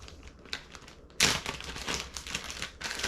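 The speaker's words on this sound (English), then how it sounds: "Next, I'm going to cut my onion." A knife cutting through an onion on a board, with soft crunching chops that build to a sharp, louder slice and continue as steady crisp cuts.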